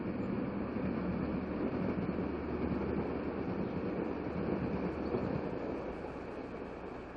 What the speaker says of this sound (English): the combined trains, the Nebraska Zephyr and the Kansas City Zephyr, kick up the powdered snow in passing